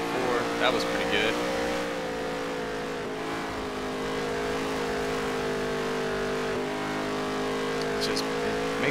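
A race car engine in the NASCAR Heat 3 video game, racing at Jefferson, drones loudly and continuously, its pitch sagging and bogging down a couple of times, with a voice talking faintly underneath.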